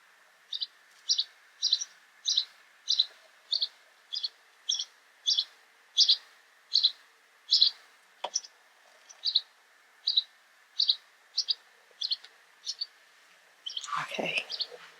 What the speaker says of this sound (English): That one bird ain't stopped making all that noise till I came out here.